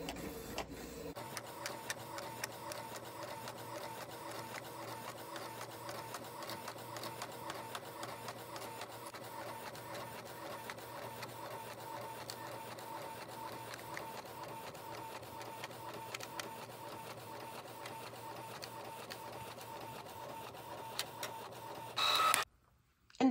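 A home inkjet-style printer running a sheet of tissue paper through, with a continuous mechanical whir and rhythmic print-head shuttling for about twenty seconds, then a brief louder rustle as the page feeds out; no talk.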